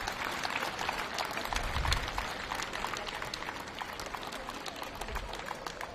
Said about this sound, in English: Ladies and gentlemen, one final big round of applause for OKN Junior.